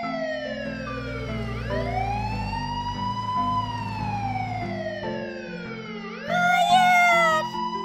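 An ambulance siren in the video game Minecraft wails loudly and up close in long rising and falling sweeps, with a second, higher siren tone joining near the end over a steady low hum.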